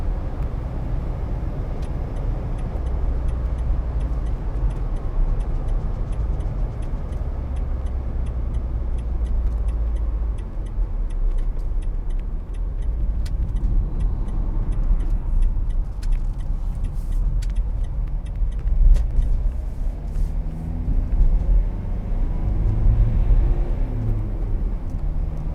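Vauxhall Vivaro 2.0 CDTi Sportive panel van on the move, a steady low engine and road rumble with tyre noise continuing throughout at an even level.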